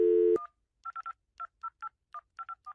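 A telephone is dialed: a short burst of dial tone cuts off, then about a dozen crisp touch-tone beeps follow in quick, uneven succession, close and clear against silence.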